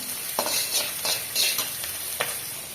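Cumin, bay leaf, nigella and dried chili frying in oil, a steady hissing sizzle with several sharp scrapes of a spoon stirring in the pan, close by.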